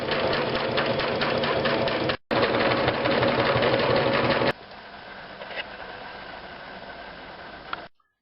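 Sewing machine with a thick 100 needle and heavy thread stitching car seat upholstery, running in a loud steady rapid chatter, briefly pausing, then continuing at a quieter, softer hum before stopping.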